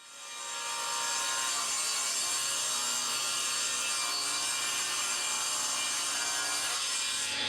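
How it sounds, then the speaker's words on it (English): A table saw rips along the edge of a wooden board for a cantilever coffee table, a steady loud whining cut that builds in the first second and then holds evenly to the end. "now I'm just straightening out the other side with the table saw"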